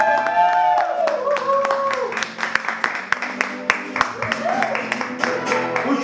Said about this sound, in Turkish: Gitaristi Fatma Nur için bir alkış alalım arkadaşlar.